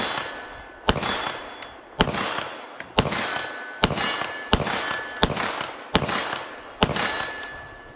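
Eight sharp pistol shots from a SAR9 SOCOM, each followed by a ringing clang off a steel plate at 25 yards, spaced roughly a second apart outdoors with no talking.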